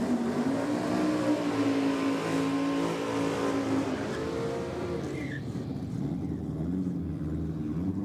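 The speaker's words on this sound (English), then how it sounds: "Nice healthy burnout from the Holden there." A Holden VS V6 car does a burnout at a drag race, its engine droning and revving steadily at a distance, with a continuous roar that shifts pitch and eases off toward the end.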